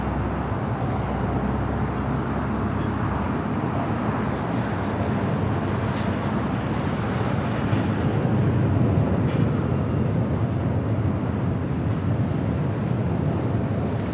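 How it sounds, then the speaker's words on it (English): Lufthansa Boeing 747-8 Intercontinental jet taking off for Frankfurt at LAX, a steady broadband engine roar with low rumble holding loud and constant throughout, no talk. "This is Lufthansa 457 taking off to Frankfurt on the 747-8 Intercontinental Yankee Sierra."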